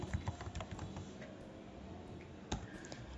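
Quiet, irregular keyboard clicking as a username is typed on a computer, a soft run of keystrokes with one sharper tap near the end, heard alone without talk.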